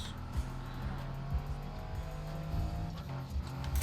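A car in the Need for Speed: Heat racing game drones with a steady, faint engine tone, the revs wavering and tire noise swelling briefly as it slides, with no voices.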